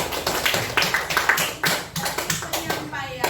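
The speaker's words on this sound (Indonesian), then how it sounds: "Tepuk tangan dulu." A classroom group claps together after a student group's presentation, a dense burst of many hands clapping at close range that rises and falls in waves for a few seconds.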